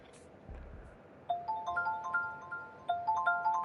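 A phone rings in the dating game Ten Dates, a bright repeating electronic chime with two bursts of tinkling tones after a brief low thump, played alone without talk.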